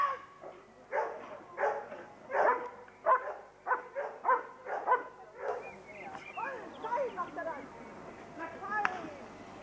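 Airedale Terrier in a mock arrest training exercise, barking and yipping in short repeated bursts up close, then whimpering and whining, with a person talking over it.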